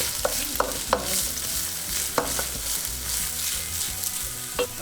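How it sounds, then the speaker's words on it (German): Chopped onions hiss and crackle in hot sunflower oil in a student kitchen, a steady sizzle with a few sharp pops and spatters near the pan, no voices. "Und als erstes kommen da die Zwiebeln rein."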